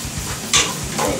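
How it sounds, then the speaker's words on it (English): Cubed meat frying in a pan is given a quick stir, a close hiss of sizzling with one bright scraping clink of the utensil against the pan. "I'll give this a stir"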